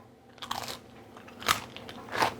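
Close-up crunching bites and chewing of something crisp and dry, three distinct crackly bursts in quick succession, no voices.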